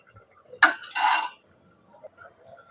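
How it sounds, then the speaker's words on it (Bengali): A metal lid lands on a cooking pot of spicy chitol fish curry with a short clatter, then a brief rattling clink as it settles, followed by near silence. "আবার কিছুক্ষণের জন্য ঢাকনা দিয়ে দিচ্ছি, ঢেকে দিচ্ছি।"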